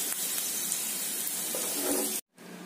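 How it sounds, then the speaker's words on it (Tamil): Steady hissing sizzle of okra frying in hot oil, close and continuous, cutting off abruptly near the end before a quieter hiss resumes. "இதை லைட்டாக எண்ணெயிலே பொறிச்சு எடுத்துக்கலாம்"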